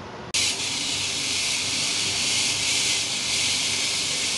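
A pressure cooker holding filet mignon and vegetables lets out a loud, steady steam hiss that starts abruptly and then runs on without a break, close and alone.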